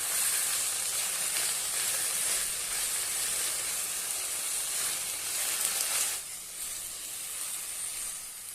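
Amaranth leaves sautéing in a pan give off a steady, bright hiss of steam and sizzle that holds evenly and then drops slightly softer toward the end, with no stirring clatter and no speech.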